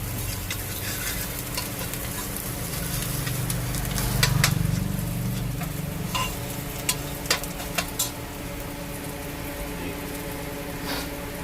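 Garlic and ginger fry over a low gas flame in a pan, a dense continuous sizzle with soft scraping stirs and a few sharp ticks from the utensil; close, no one speaking.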